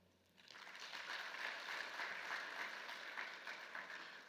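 An audience at a high-level opening session breaks into applause for the youth, a dense, steady wash of clapping that swells in after a quiet start and holds evenly throughout.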